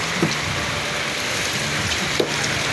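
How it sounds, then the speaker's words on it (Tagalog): Heavy rain from a typhoon pours steadily and fills the whole scene with dense, constant hiss and patter, with a few louder drops standing out and no talk. "palakas pa rin yung ulan."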